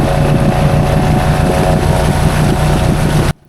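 A Honda Foreman ATV on 35-inch tires drives into a mud hole, its engine a loud, steady, close roar mixed with wind buffeting that cuts off abruptly near the end.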